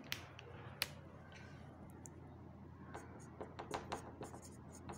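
Chalk or a marker writing on a board in a classroom makes a faint scratching that ends in a cluster of quick taps and strokes, over a quiet background hum.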